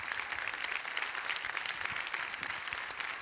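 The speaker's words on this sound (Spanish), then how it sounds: "me encanta el aplauso" A crowd at a music concert show claps continuously in dense, even applause, heard alone at a moderate distance without talk.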